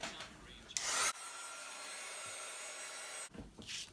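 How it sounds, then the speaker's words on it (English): A heat gun blows a steady, loud whooshing hiss for a couple of seconds while drying a rolled candle paper card, with rustling and handling noises just before and after it runs. "I just use my heat gun to give that a good head start to get dry"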